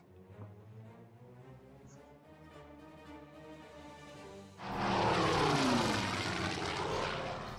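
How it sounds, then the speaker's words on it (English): Propeller aircraft engines from the strategy game Order of Battle, a steady droning hum that swells suddenly into a loud roaring rush halfway through as planes launch, with no speech. "And he's got more aircraft that are launching."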